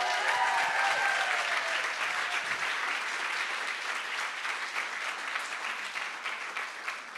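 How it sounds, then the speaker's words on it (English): An audience at a CreativeMornings talk in New York gives speaker Eli Pariser a long round of applause, a thick continuous clapping that stays strong throughout, with a few voices briefly audible early on. "Can we give him another round of applause?"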